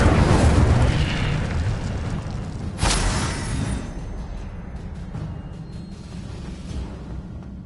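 Incendiary fire spell blast in Hogwarts Legacy, a burst at about the three-second mark over a dense, roaring rumble that slowly fades.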